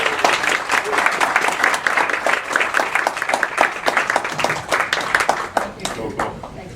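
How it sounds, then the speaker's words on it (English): Applause from an audience honoring award winners at a 2016 event, dense steady clapping with scattered sharp claps near and far, filling the whole stretch and tapering slightly at the end; no voices stand out. "Everybody give them a big round of applause."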